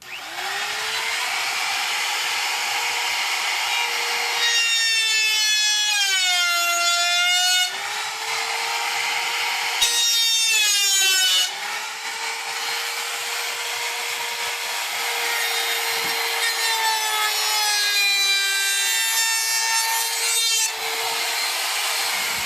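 A router cuts a beveled edge along a clamped wooden piece in a steady, loud, continuous whine, its pitch dipping and rising in a few passes as the bit bites into the wood.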